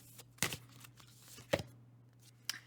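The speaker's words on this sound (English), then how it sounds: "so I want to shuffle again" A deck of tarot-style cards being shuffled by hand, three quick riffling bursts spaced about a second apart, close and soft against a quiet indoor hum.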